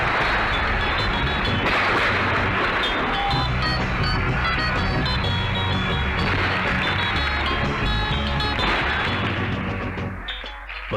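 A fireworks display over a river at the close of an official royal visit, with a float parade on the water, heard as a dense, continuous wash of crackling bursts and booming reports with steady loudness and no clear gaps.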